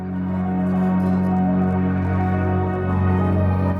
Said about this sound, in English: So I layered in a whole load of violins, violas, some more cellos and some pianos